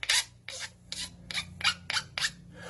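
Woodworking file rasping rough spots off a homemade wooden phone holder, seven quick even strokes in a steady rhythm, close and crisp with no talking.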